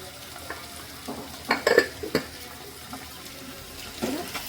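Tomatoes cooking in a pan for okra stir-fry, soft sizzling under a few clattering stirs and spatula knocks, close and moderately quiet, with no voices.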